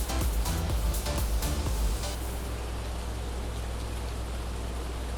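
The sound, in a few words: rain in a farming video game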